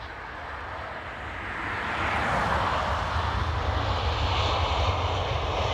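Ryanair airliner at Dublin Airport, its engine roar building over the first two seconds and then holding as a loud, steady broadband rumble, with no talk over it.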